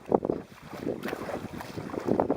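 Strong, gusty wind buffets the microphone on an open lake during a slow paddle against the wind, rising and falling in rough bursts with water sloshing close by.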